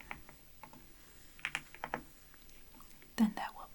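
Soft clicks and taps of a computer keyboard in a scattered rhythm, close and quiet, with a faint whispering voice and a louder clatter of keys near the end.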